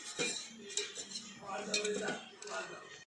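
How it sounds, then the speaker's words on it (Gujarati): A metal kadai clanks down and ghee is poured in while cooking chocolate modak, giving a few close metallic clinks and scrapes over about three seconds. "આપણે કઢાઈ લઈ લઈશું તેમાં થોડું આપણે ઘી રેડીશું"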